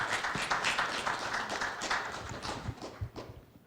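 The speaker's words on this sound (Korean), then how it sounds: "큰 박수 부탁드립니다" At a Korean sports community convention, the audience gives a burst of applause, loud and dense at first, then thinning into scattered, distinct claps as it dies away.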